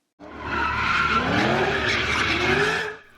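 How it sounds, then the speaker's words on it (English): Car tires screeching at an illegal street sideshow at an intersection, one loud sustained squeal of skidding rubber lasting about three seconds with an engine beneath it, then cutting off. "We've heard of illegal sideshows taking up intersections with tires screeching, skid marks, and smoke in the air."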